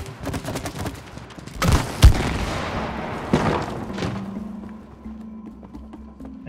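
Gunfire in the video game It Takes Two: a few sharp close shots and thumps, one loud bang near two seconds, then a quieter hum as the shooting fades.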